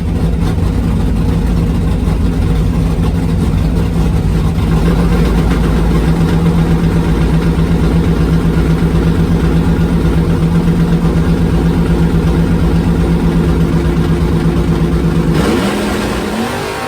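Small block Ford Mustang drag car engine at a doorslammer drag racing event, a loud sustained roar that holds steady and close for about fifteen seconds, then drops off sharply at the end.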